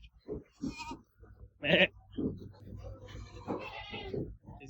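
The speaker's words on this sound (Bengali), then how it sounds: "ছাগল এখানে দুম্বা আছে এটা দুম্বা" Goats and fat-tailed dumba sheep bleat at an outdoor livestock market in Oman, with one sharp, nearby bleat standing out among scattered animal calls and people talking.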